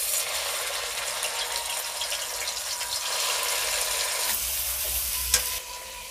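Spice paste hits hot mustard oil in a wok with a continuous bright hiss and sizzle, a sharp clink near the end as the crackle steadies and softens slightly.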